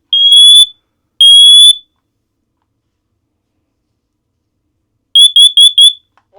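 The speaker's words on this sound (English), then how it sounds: "Warning, carbon monoxide. Attention, monoxyde de carbone. It's loud." A carbon monoxide alarm near the listener sounds two long shrill electronic beeps. After a pause come four quick shrill beeps and the start of a voice warning, all loud and with no one else talking.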